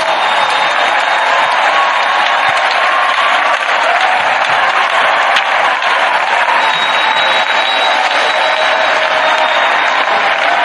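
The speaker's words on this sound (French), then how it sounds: "Clap offering to Jesus." A church congregation claps together in steady, continuous applause as a clap offering to Jesus, loud and dense throughout with faint crowd voices mixed in.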